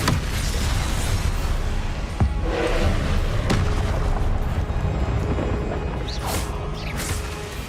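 Blasts from the Confringo fire spell in the video game Hogwarts Legacy, a few dull booms and sharp cracks spaced through a loud, constant backdrop of game combat noise.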